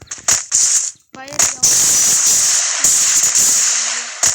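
Gunfire from a shooting video game fired as single one-tap shots, sharp loud bursts broken by brief gaps over a constant high hiss, with a short tonal game sound near the end.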